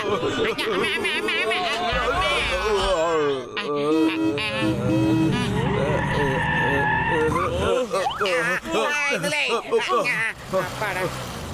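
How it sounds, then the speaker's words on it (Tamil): An old car approaching in a cartoon sputters and rattles with skidding, honking-like engine noise and comic squeals, loud and close, under excited overlapping character voices throughout. "வீணா போன வண்டி வருது"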